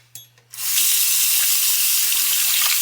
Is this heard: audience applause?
no